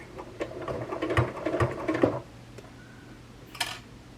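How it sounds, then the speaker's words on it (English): A sewing machine runs in a short burst of rapid, rattling stitches while quilting a fabric hot plate, stopping after about two seconds, followed by quiet and a brief rustle. "let's begin sewing."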